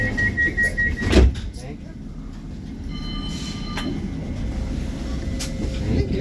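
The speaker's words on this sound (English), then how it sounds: "This tram is about to depart." A West Midlands Metro tram pulls away, with a short beeping signal, a sharp clunk as the doors shut, then a rising electric motor whine and rolling rumble up close, with voices under it.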